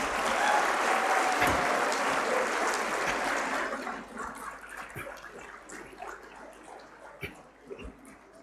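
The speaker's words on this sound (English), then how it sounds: "Good clap for them, please." Audience applause for award winners at a live event, a dense, loud burst of clapping that fades to scattered claps after about four seconds.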